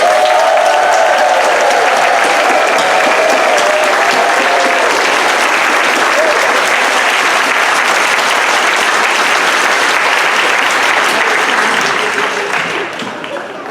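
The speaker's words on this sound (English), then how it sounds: "I'm going to ask that you in the audience applaud to celebrate their commitment to COPA" A large audience at a community organizing anniversary convention applauds at length, dense loud clapping with some crowd noise that holds steady before fading near the end.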